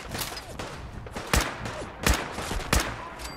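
Gunfire in Fallout 4: three sharp, loud shots spaced under a second apart, each a bright crack over a busy background of game sounds.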